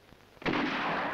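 A gunshot from an Italian crime film trailer bursts out abruptly, a loud blast followed by a broad, roaring decay that fills the remainder of the short moment.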